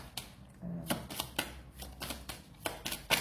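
Tarot cards flick and slap down one after another in a quiet room, a string of soft, close, papery snaps at an uneven pace with no talking.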